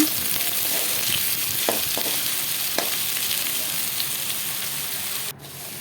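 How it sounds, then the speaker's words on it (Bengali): Potatoes sizzling and frying steadily in a pan on a home stove, with a few stirring scrapes and clinks over the continuous hiss and no talking. "আলুগুলো লাল লাল করে ভেজে নেব এখন"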